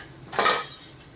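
A single quick scrape of a spoon stirring vegetables with salt in a pot for veg biryani, a short close metallic swish about half a second long over a quiet background.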